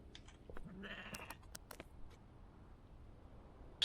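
Faint bleating of two goats in the video game Contraband Police at a border inspection, a short wavering cry among scattered clicks and thumps, then a quieter ambient stretch with a sharp click at the end.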